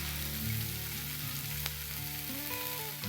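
Spiced masala paste for a rohu fish curry fries in hot oil, giving a steady close sizzle throughout with a few faint kitchen clinks and no talk.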